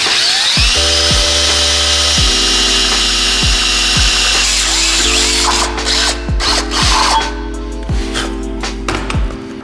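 A drill bores a stepped hole through sheet metal with a large bit during a bobber motorcycle build, the motor whirring loud and close in repeated bursts, slowing and restarting, with grinding bite and chatter later.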